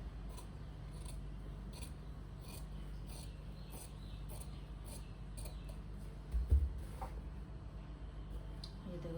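Scissors snip through blouse lining fabric in a tailoring boutique, a series of quick, crisp cuts spaced across the clip, close and fairly quiet over a low steady hum.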